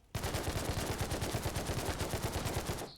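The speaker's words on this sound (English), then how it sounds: "it's an AK-47, right? So I can shoot this thing 10 times faster than I can shoot that thing." An AK-47 in the Siege Worlds video game fires a sustained, rapid burst of automatic shots with a tight, even rhythm. The gunfire is loud and close for about three seconds with no voices, then cuts off abruptly.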